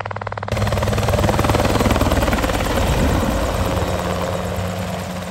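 A light helicopter's engine and rotor drone loudly and steadily close by, a continuous throbbing roar that kicks in abruptly after a brief quieter moment.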